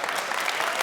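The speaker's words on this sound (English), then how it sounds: "Because you all are clapping." A live audience at a business talk claps together in dense, sustained applause that fills the whole moment without letting up.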